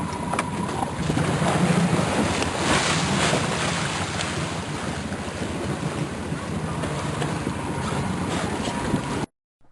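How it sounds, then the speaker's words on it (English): Loud, steady rush of ship wake waves breaking on the open water of Galveston Bay from a distant tanker, with heavy wind buffeting the microphone throughout and no voices. "the wave that Kenny and Ashley are riding here is made by that ship that's way off in the distance now"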